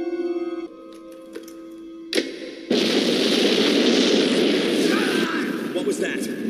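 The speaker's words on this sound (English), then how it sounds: "What was that? An explosion!" A loud explosion bursts out in an animated TV crime drama, a sharp boom followed by a sustained roaring rumble of debris and blast noise that fills the rest of the moment after a quieter tonal stretch.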